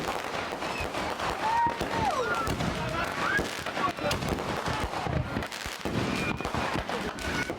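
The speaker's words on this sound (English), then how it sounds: "We've just seen someone lighting them while the fireworks are going off, like nearly blowing the head off." Fourth of July fireworks misfiring: a dense run of crackling bursts and pops with whistling rockets rising and falling, loud and close, under people's voices.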